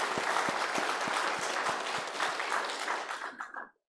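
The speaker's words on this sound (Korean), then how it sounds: "박수 한번 쳐줄만 하죠" A church congregation applauds during a Sunday worship service, a loud, close wash of many hands with a few distinct sharp claps regularly standing out, sustained and then cutting off abruptly.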